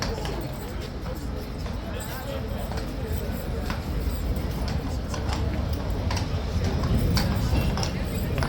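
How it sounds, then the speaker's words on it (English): Horse hooves clip-clop steadily across a yard as the horse is led through open gates, a continuous patter over background noise and some talk, growing slightly louder toward the end. "Taking the horse through into the yard."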